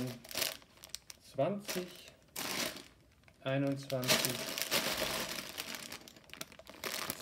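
Plastic bags of Lego Technic 42098 Car Transporter pieces crinkle and rustle in several loud bursts, with short pauses between handlings, while a voice counts aloud.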